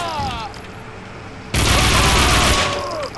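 An Uzi fires in Max Payne 2. Quieter background shots and game sounds give way halfway through to a sudden, loud, sustained burst of automatic fire lasting over a second.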